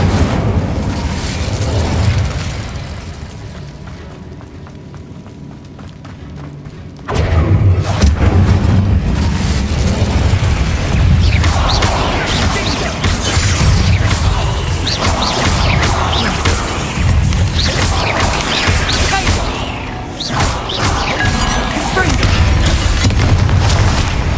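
Repeated spell blasts and booming impacts from Crucio, Confringo and Incendio curses in Hogwarts Legacy, loud and dense over a rumbling game soundtrack, with a quieter lull before a sudden heavy burst and continuous crashing after.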